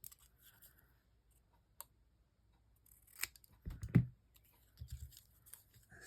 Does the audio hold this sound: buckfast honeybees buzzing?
no